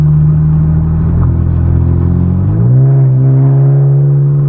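The 3.6L engine of a 2015 Chrysler 200 with a ported 80mm throttle body drones loud and close while driving, holding a steady tone before the pitch climbs and settles as it revs.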